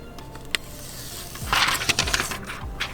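A short crackling, tearing rustle as adhesive plastic film is peeled off a car stereo unit for a Mercedes W212, with a few light ticks and taps around it, close up.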